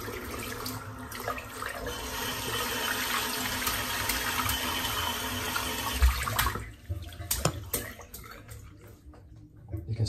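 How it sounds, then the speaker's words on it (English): A shaving brush and soap are rinsed under a running tap, a steady splashing stream that sputters and breaks up toward the end. "I'm just going to rinse the brush out, and we'll rinse the soap out"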